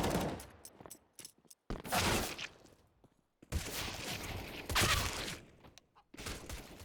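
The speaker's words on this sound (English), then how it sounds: "God, I hate when they're all shooting each other." Gunfire rattles through a Counter-Strike match in rapid bursts and fusillades, loud and close, broken by short silent gaps between volleys, with no voices.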